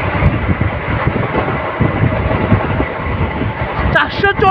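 A train rounds a curve with a close, steady rumble and clatter of carriages, and a brief tonal sound near the end.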